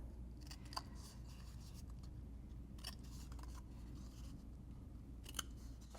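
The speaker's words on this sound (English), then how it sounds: "I'm also going to cut the little corners off right here" Scissors snip small corners off paper tabs for a Stampin' Up! star box craft, making several crisp, quiet cuts spaced irregularly over a faint background hum.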